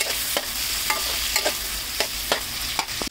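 Chopped capsicum and garlic fry in a hot pan: a continuous close sizzle broken by regular spatula scrapes about every half second, with no voices.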